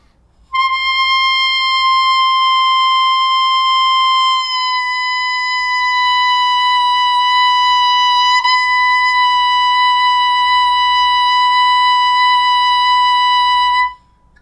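A buzzy brass mouthpiece tone held steadily on C, dropping a half step to B natural partway through, then sustained, loud and alone.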